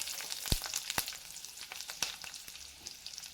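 Whole spices and onion (cardamom, cloves, cinnamon, star anise, bay leaf) sizzling in hot oil for a paneer mint gravy, with a soft steady fry and a few sharp clinks of a spoon against the pan.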